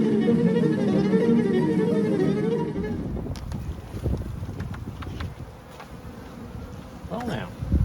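Honey bees droning at an outdoor hive during a colony inspection, a dense continuous buzz up close that thins out partway through, with wind rumbling against the microphone and individual bees zipping past.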